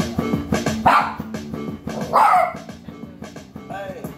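A dog barks about three times at spaced intervals, moderately near, over a background of music.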